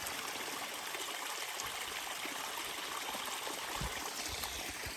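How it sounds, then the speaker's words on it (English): A stream in a ravine on the Appalachian Trail between Woody Gap and Unicoi Gap flows in a steady, even rush of water that lasts the whole time and is not covered by voices. "best flowing water we've seen to date?"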